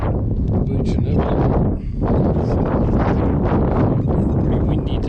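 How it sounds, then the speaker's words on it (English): Strong wind buffets the microphone at a beach with choppy water, a loud, continuous broadband roar that barely lets up for the whole stretch, dipping only briefly near the middle. "Pretty windy today, so it's a bit choppy"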